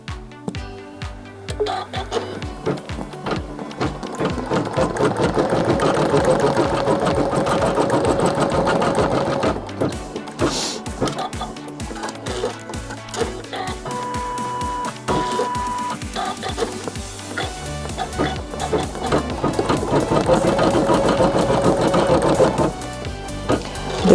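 A sewing machine stitches yarn down onto fabric for couching, a loud, close, rapid mechanical chatter running almost continuously with a few short pauses and speed changes.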